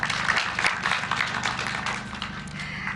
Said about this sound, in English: Please let us applaud our teachers.